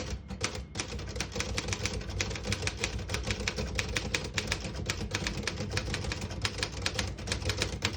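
A 1956 Royal HHE manual desktop typewriter types out a sentence, rapid crisp key strikes in an uneven rhythm with a heavier mechanical clunk near the start, close and alone.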